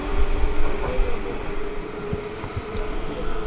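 A Kintetsu commuter train in Osaka runs steadily, with a constant loud rumble, a sustained hum and occasional rail clicks throughout.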